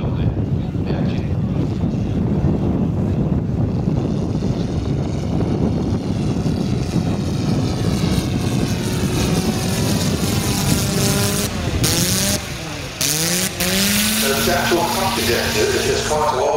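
Quarter-scale nine-cylinder Bentley rotary engine running on a model Avro 504 aircraft at a model flying nationals, a loud, steady droning roar with wind buffeting the microphone, shifting in pitch toward the end as it passes.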